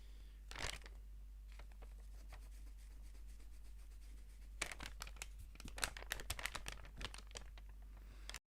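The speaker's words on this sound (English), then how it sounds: "Listening to paper being flipped back and forth." Sheets of traditional 2D animation paper are flipped back and forth, making soft, quiet crisp rustles in bursts, with a dense run of quick flips near the end.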